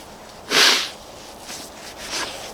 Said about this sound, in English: I'm just gonna blow my nose again.